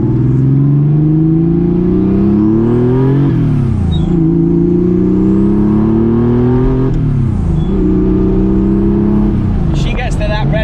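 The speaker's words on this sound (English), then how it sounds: "She gets to that red line on the rev counter quick." A modified turbocharged Porsche 911 SC engine revs repeatedly toward the red line. Each rev climbs steadily for about three seconds and then drops back, a loud and close engine note with voices talking over it.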